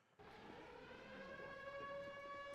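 A civil defense siren from the film The Mist starts abruptly and holds a steady, rising wail with layered tones, moderately loud and alone.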